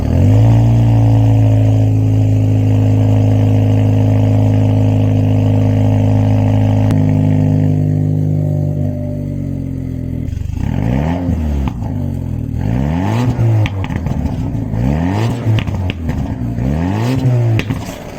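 A Mercedes-Benz CLK200 Kompressor (C209) engine idles with a steady low rumble, then is revved repeatedly, each rise and fall of pitch sounding close and loud, with no talking.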